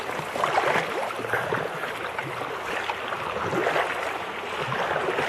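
A kayak is paddled through ocean surf, giving a continuous, close wash of splashing water and churning waves throughout, with no talking.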